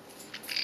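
A white-bellied caique gives a brief, harsh squawk at close range, rising in strength toward the end of a short burst.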